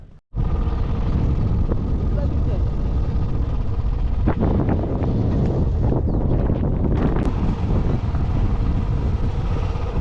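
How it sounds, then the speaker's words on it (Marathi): Strong wind at a coastal sunset point in Varavade, Konkan, roars steadily into the microphone with heavy low rumbling buffeting, continuous and loud throughout. A few faint gusts and knocks surface partway through. "वारा बघा एकदम भारी सुटला आहे"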